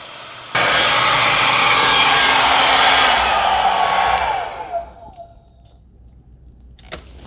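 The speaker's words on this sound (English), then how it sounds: "so I'm going to run the hairdryer just a little bit more." A hair dryer blows steadily and loudly into a Samsung ice maker to melt ice, a close, even whoosh that runs for several seconds before switching off, leaving faint clicks and handling noises.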